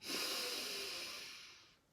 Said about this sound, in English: Inhale, final time.